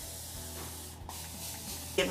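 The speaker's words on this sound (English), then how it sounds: "spray this side with water" A steady hissing spray from a mist bottle misting water onto hair, close up, lasting throughout with a brief pause near the middle.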